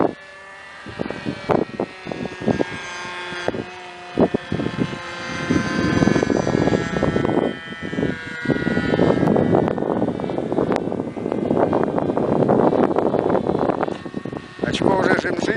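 A small propeller airplane's engine runs at medium revs, a steady loud droning hum that builds and holds, with someone talking over it.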